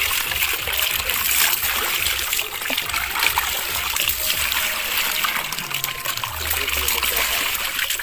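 Water pours and splashes steadily from a hand-pumped well, a continuous broad rushing trickle with slight surges throughout, close and moderately loud, and voices faintly mixed in.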